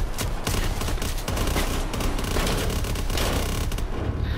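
Full-auto shotgun fire in Call of Duty Blackout, a dense, continuous volley of loud blasts with heavy low-end booms, sustained throughout with no pauses and no talk.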